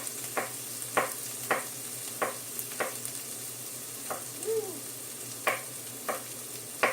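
Garlic fries in oil in a pan with a steady, close sizzle, broken by sharp stirring scrapes that recur about every half second.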